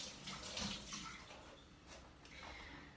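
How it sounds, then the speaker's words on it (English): Tap water runs steadily into a kitchen sink as hands are rinsed under it, a continuous close splashing that swells briefly near the start and then holds an even hiss to the end. "Let me rinse my hands really quick."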